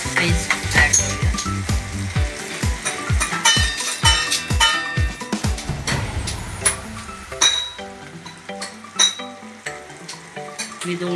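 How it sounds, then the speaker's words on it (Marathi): A garlic, ginger and coriander paste fries with tomato for a Konkani-style prawn dish, with a crackling sizzle under repeated sharp clinks of a utensil against the pan in an uneven rhythm. "आता आपण याच्यामध्ये लसूण अद्रक आणि कोथिंबीरची पेस्ट ॲड करूया."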